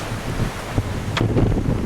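Wind buffets the microphone on a swaying pedestrian suspension bridge along a mountain trail around Baekhwasan in Sangju, a steady low rumbling gust with a few faint knocks, no voices.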